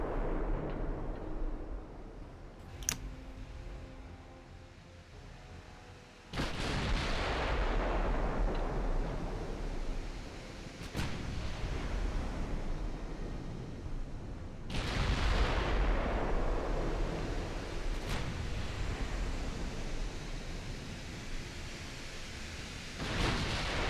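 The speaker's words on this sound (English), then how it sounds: "He's happy firing his gun." Ship guns firing in the naval game Ultimate Admiral: Dreadnoughts, with three heavy booming blasts spaced several seconds apart, each followed by a long rumbling decay, no speech.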